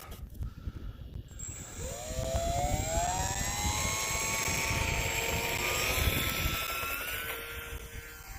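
The electric motor of an E-flite Cessna 182 RC plane spins up to a high, whining drone that holds steady with rising and falling pitch. It sounds outdoors in wind, close at first and loud, with no talking.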